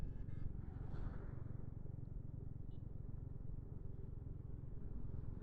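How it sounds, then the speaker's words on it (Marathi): Steady rumble of vehicles moving through jammed traffic on a busy road, heard from a motorcycle on a ride between Hiriyur and Salem, with continuous low engine drone throughout and no clear single pass-by. "हे बघा कशी येतात ते गाड्या"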